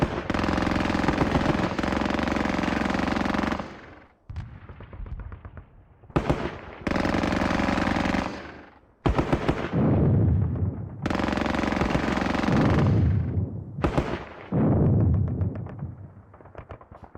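Machine gun fire in the Squad Battles war game, long loud sustained bursts separated by short gaps, each ending in a booming decay with scattered cracks in between.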